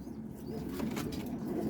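Boston roller pigeons in a breeding loft give soft, low cooing, a continuous murmuring burble heard faintly at a distance with light background noise and no voices.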